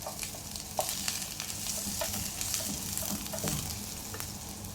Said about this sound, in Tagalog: igisa na natin yung ating ginger. And then garlic.